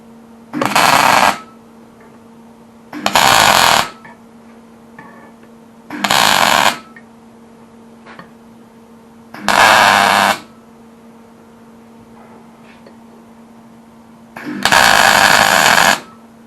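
Tack welding on a steel car rotisserie being built for a Holden Torana: five loud, harsh buzzing bursts of about a second each, separated by a steady electrical hum, with no voices.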